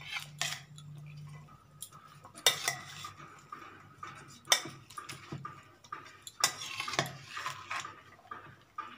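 Small tengra fish being mixed by hand with assorted vegetables and spices in a bowl, giving soft intermittent squishing and stirring sounds with occasional light clinks against the dish, close and without speech.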